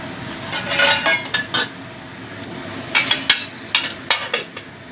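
A lid goes onto a cooking pot of okra simmering in mustard-poppy gravy with cashews, making bursts of close metallic clatter and clinks in two clusters over a low steady hiss.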